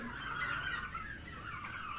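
Turkeys at a farm in Shibganj near Sona Masjid, Chapainawabganj, calling in a steady chorus of gobbling fowl noise, fairly loud and continuous, without speech.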